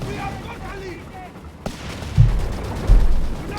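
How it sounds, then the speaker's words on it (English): Artillery fire in the World War II strategy game Company of Heroes 3, aimed at a Nebelwerfer rocket launcher: two heavy booming impacts about a second apart, heard under a commentator's continuous talk. "we got artillery fire now trying to silence that Nebelwerfer"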